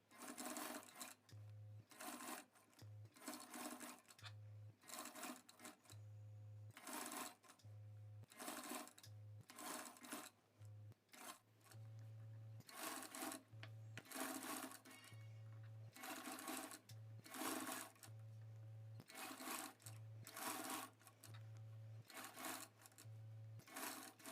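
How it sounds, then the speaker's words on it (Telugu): A sewing machine runs a top stitch along the edge of a cut work sleeve in repeated bursts of rapid mechanical chatter with short pauses between runs, close up and steady, with no speech. "ఈ అంచు అంటే ఒక టాప్ స్టిచ్ అన్నది వేసుకోవచ్చు"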